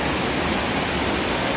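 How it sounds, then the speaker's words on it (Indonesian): Hanging waterfall beside the Grand Canyon Glass Bridge in Guangzhou, China, pouring down as a loud, steady, broadband roar of falling water with no break and no voices. "Ini hanging waterfall yang ada di Canyon Glass Bridge."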